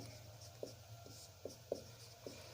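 Pen or chalk writing out a handwritten math solution on cone frustum surface area and volume, a few soft, scratchy strokes spaced irregularly over a faint steady background hum, quiet and close.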